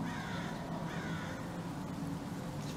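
Birds calling in the video game Half-Life: Alyx, harsh cawing cries repeating over a steady low hum of game ambience, moderately faint and without speech.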